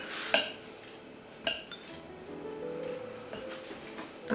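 Butter cut into small pieces is worked into flour and baking powder in a bowl for an old-style crumbly-sheet cake, giving a few light clinks and scrapes of a utensil against a dish, with soft handling noise in between and no talk.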